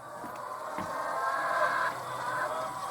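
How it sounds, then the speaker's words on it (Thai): A dense chorus of clucking chickens on a chicken farm fills the space, a continuous murmur of many birds with occasional louder calls standing out. "ยินบ่พี่น้องยินเสียงไก่บ่"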